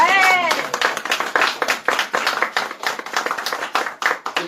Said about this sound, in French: On peut applaudir Michel?